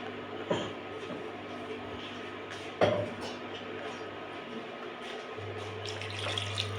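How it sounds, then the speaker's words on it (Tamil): Water is rinsed and poured into a kitchen mixer jar while making kara kulambu, with a soft splashing trickle, a couple of sharp clinks against the jar, and a steadier running flow near the end. "இந்த ஜாரில் நான் தண்ணி கழுவி ஊற்றிக்கிறேன்."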